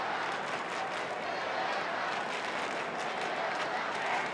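A large football crowd at a St Kilda versus Collingwood match in 2004 jeers an ejected spectator as security escort him out, a steady, dense, far-off roar of many voices that stays loud and even throughout.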